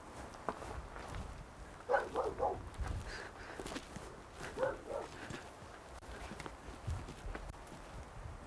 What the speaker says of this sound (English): I thought I heard running, but I think it's that dog.